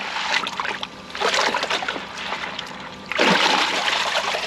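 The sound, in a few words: rinsing koi pond filter media in water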